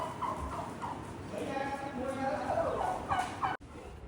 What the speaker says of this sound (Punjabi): ਦੋ ਫੀਮੇਲ ਆ ਦੋ ਮੇਲ ਤੇ ਮਰ ਗਏ ਹੋ ਆ ਜਾਂਦੇ ਨੇ ਵਾਈਟ ਟਰਕੀ